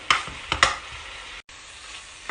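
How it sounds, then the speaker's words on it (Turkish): Minced meat sizzles in a hot pan while a utensil stirs and scrapes it a few times, the frying hiss continuing steadily between strokes. "Önce kıymamı güzelce bir kavuruyorum."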